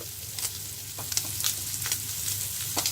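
Dried anchovy fish frying in a pan sizzles steadily at close range, with crackling spits popping out at irregular moments and no talking.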